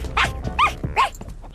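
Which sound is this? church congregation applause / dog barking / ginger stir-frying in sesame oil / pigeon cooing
dog barking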